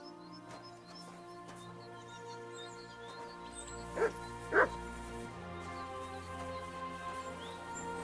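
A dog in the video game Kingdom Come Deliverance 2 gives two short, sharp yelps near the middle of the clip. They sit over a steady ambient game backdrop, and the dog is otherwise quiet.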